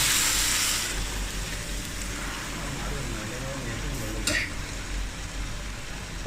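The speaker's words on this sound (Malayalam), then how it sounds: "ഇതിലേക്ക് നമ്മളിതാ ചൂടാക്കിയ വെള്ളം നല്ല അടിപൊളി ഇങ്ങനെ ഒഴിച്ചു കൊടുക്കുക" Heated water poured onto rice in a cooking pot while making ghee rice, giving a steady, close rushing splash that runs through the whole stretch with a brief brighter burst near the end.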